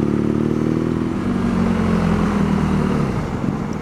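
A motor vehicle roars past a BMW R nineT motorcycle, a loud close engine drone whose pitch holds then drops as it passes, with steady road noise throughout.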